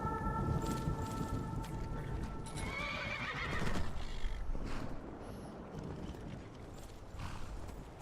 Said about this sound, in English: Let's summon up the horses.